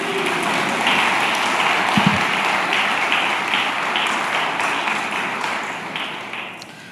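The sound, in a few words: audience applause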